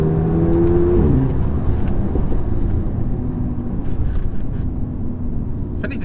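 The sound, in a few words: 2008 Audi TTS turbo car accelerating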